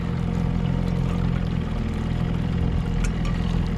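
Crabbing boat engine running steadily on a trotline run in St. Mary's County, Maryland, a constant loud low hum and drone with no talk over it.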